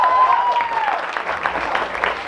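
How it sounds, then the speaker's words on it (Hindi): Audience applauding at the Mumbai Independent Film Festival Awards, a short burst of dense clapping with crowd noise and a brief tonal whistle or feedback sound at the start. "जोरदार तालियां प्लीज।"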